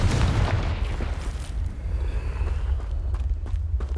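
A Confringo blasting spell detonates in Hogwarts Legacy, producing a heavy, booming explosion with a deep rumble that rolls on steadily for the full few seconds, loud and close.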